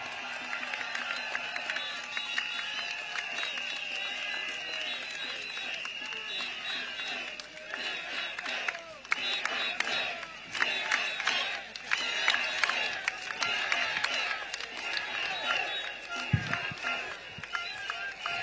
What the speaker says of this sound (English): Thank you for your cheers